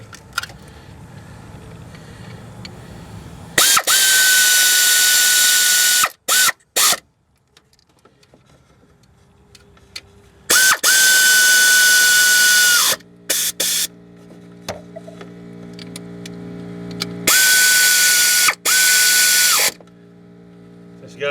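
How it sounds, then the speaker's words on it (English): An air ratchet snugs down the water pump bolts on a 2005 Ford Freestyle, firing in three loud sustained bursts of hissing, whirring rattle separated by quieter shop noise. "Bring out my little air ratchet here and snug these bad boys down."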